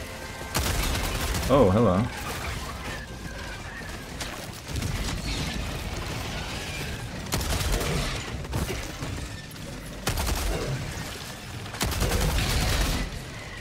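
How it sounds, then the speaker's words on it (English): Artillery strike in Helldivers 2: repeated heavy bursts of explosive fire arriving in clustered waves amid gunfire, loud and booming, with someone speaking briefly. "Oh, we have artillery."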